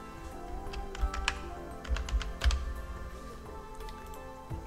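Typing on a computer keyboard while adding text in Adobe Photoshop, a run of clicky keystrokes in uneven bursts over a steady background hum, fairly close.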